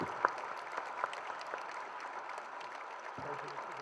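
An audience at a book presentation gives Arturo a steady round of hand clapping, moderately distant and fairly soft, with one sharper clap near the start.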